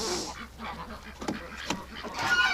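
Wintering ducks and geese honk and call close by, with a few overlapping squawks and a faint voice in the background.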